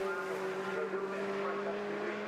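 Lotus Elise race car in an Elise Trophy race at Brands Hatch, powering past the pits with a sustained, fairly faint engine tone that holds steady throughout.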